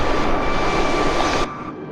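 Steady jet engine roar from an Airbus A320 in Microsoft Flight Simulator 2020, a loud continuous broadband drone with a faint whine that drops slightly in level near the end.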